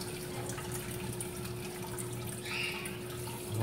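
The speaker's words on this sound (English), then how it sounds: "Now we've got the water flowing again." Water runs steadily through reef aquarium plumbing as the flow to the sump resumes, a constant close trickle and gurgle with a brief splashier surge near the end and no talk.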